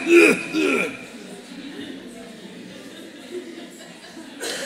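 A voice imitates people coughing, giving a couple of short, loud throaty bursts at the start before fading into quiet murmuring room noise, with a brief sharp sound at the very end.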